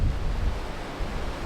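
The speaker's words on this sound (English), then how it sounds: "It is a bit windy here at the moment" Wind gusts across a snowy mountain campground, making a continuous low rumble and buffeting against the microphone for the whole short stretch, with no voices.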